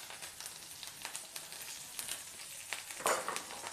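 Onion and curry leaves frying in hot oil tempered with sesame seeds, cumin and mustard seeds, a soft steady sizzle with crackles and a sharp spatter near the end, no talking.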